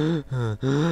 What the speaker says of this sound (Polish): Ale sapie